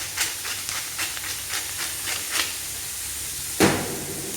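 Butter and garlic paste sizzling in a pan: a steady, close frying hiss with soft crackling pops, and one sharper clatter near the end.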